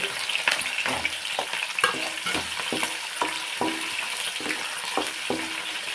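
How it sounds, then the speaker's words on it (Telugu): Onion and green chilies fry in a mix of ghee and oil, a loud, close sizzle broken by repeated rhythmic stirring scrapes, about two each second. "ఉల్లిపాయ పచ్చిమిరపకాయ నెయ్యి నూనె కలిపి వేస్తాను అన్నమాట"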